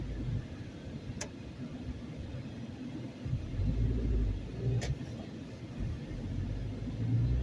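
Heard from inside the cabin, a manual-transmission car drives in second gear with a low, steady engine rumble that swells slightly midway. Two brief clicks punctuate it, and no one speaks.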